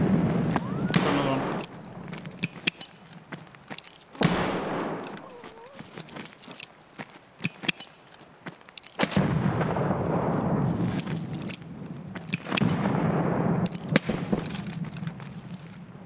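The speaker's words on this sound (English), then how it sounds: "A million grenades." Grenades burst in Escape From Tarkov with several heavy booming blasts close by, mixed with sharp gunfire cracks and clattering, while players talk over the action.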